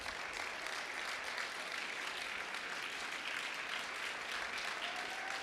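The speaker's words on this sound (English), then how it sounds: "let's give him a round of applause" Steady, dense applause from an audience at the San Francisco 2013 Latino Heritage Celebration and Awards, a continuous wash of clapping hands that holds at an even level throughout.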